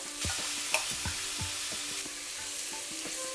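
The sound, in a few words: stirring spinach wadi frying in coconut oil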